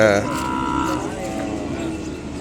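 Calves and Ongole cattle moo at a busy village livestock market in Kodad, one long, loud, close moo followed by a fainter lowing call over a steady murmur of market noise.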